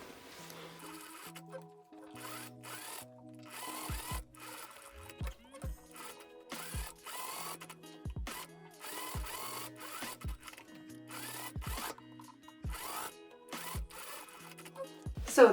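A sewing machine stitches ruffles and a collar onto the facing of an 80s-inspired summer dress. It runs in short, repeated bursts of whirring stitching, broken by brief pauses and soft mechanical clicks, close and moderately loud.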